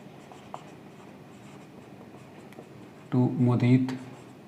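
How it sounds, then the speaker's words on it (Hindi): A pen scratches steadily across paper as an accounting journal entry for a partnership capital account is written out, close and continuous, with a person briefly talking near the end. "फिर लिख लेंगे टू उदय कैपिटल अकाउंट"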